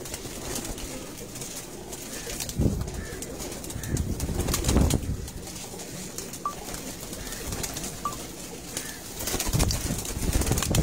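Pigeons, including Bateri breeds, coo softly among flapping wings and a few brief calls in a Lyari, Karachi pigeon loft, amid moderate background noise with occasional louder bursts.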